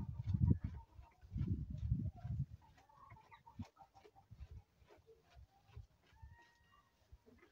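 Chickens cluck and murmur close by on a village farm in Turkey in low, irregular bursts, with occasional higher squawks and background rustling.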